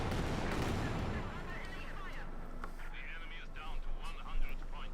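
A Katyusha rocket barrage fires in Company of Heroes 2, a dense roaring rush of launches that fades into scattered crackles, heard under a commentator's voice.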